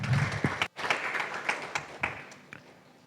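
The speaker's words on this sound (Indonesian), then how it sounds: "berikan tepuk tangan meriah buat Tuhan kita" Church congregation clapping during an online Sunday worship service, a burst of applause with scattered hand claps and taps fading over a few seconds, fairly close and alone without talk.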